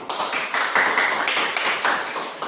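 A room full of people clapping for a prospective teacher (calon guru penggerak, cohort 9) after her presentation at a school dissemination session. The clapping is steady and dense, moderately loud, with no talk over it.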